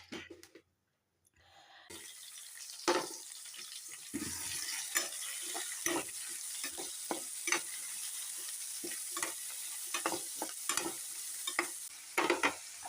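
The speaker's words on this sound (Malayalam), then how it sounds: "പിന്നെ തക്കാളി, ഇഞ്ചി വെളുത്തുള്ളി പേസ്റ്റ് ഇതിട്ടിട്ട് നല്ലോണം വഴറ്റുക" Tomato with ginger-garlic paste sautéing in a pan: a quiet start, then a steady low sizzle broken by repeated sharp spatula scrapes and taps against the pan, close and moderately loud, no talking.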